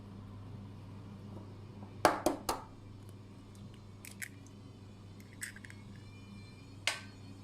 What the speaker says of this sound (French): Je viens d'abord les casser un par un dans un bol pour m'assurer de leur fraîcheur.